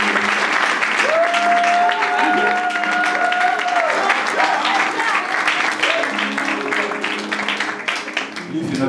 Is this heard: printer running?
no